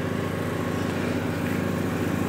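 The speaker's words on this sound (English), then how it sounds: "So lawnmower's coming again" Lawnmower running nearby in a yard by honey bee hives, a steady droning engine hum with an even pulsing rhythm that holds at constant loudness throughout, with no voices over it.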